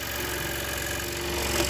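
Scroll saw cutting wood gives a steady, close, buzzing hum with a brief rattle near the end as a small offcut drops free.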